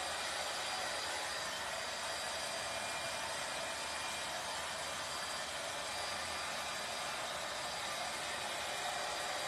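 A heat gun or blow dryer blows on foam sheet petals to curl them into a rose, giving a faint, even, continuous hiss of rushing air with no talking.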